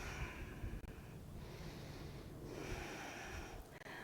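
Deep breathing during a yoga flow, a long steady nasal inhale and exhale with a soft rushing, snorting quality, close to the microphone and alone.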